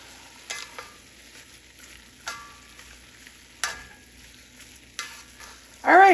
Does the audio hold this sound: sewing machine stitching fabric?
no